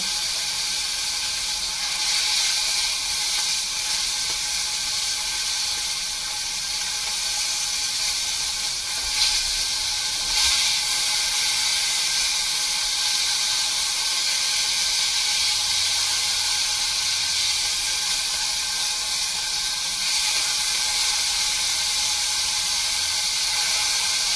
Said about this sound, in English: I'm actually going to turn it and try and get a sear on the sides as well